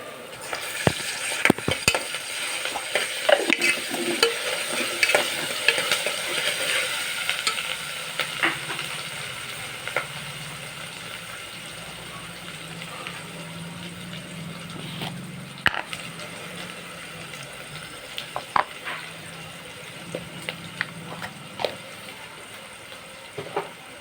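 Urad dal tipped into hot oil in a pan with ginger-garlic paste and stirred, a steady soft sizzle under repeated scraping and clinking of the spoon against the pan, close and moderately quiet throughout.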